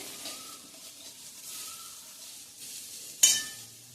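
Vermicelli being sautéed in a pan over a medium gas flame for upma, giving a soft, steady frying sizzle with light stirring scrapes and a sharper clatter near the end.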